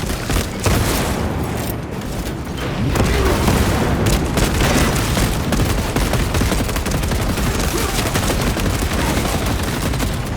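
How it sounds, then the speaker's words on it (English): A frag grenade blast and sustained gunfire in the Warhammer 40,000 video game Space Marine 2, a dense, continuous wall of battle noise with booms and rapid shots running throughout. "Frag grenade out!"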